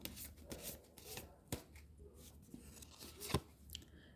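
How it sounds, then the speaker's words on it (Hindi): Tarot cards are shuffled by hand in a quiet, close series of soft riffling swishes and light taps, faint and heard without talk. "किंग ऑफ सॉर्ड क्यों है, थोड़ा सा इसको शफल करते हैं।"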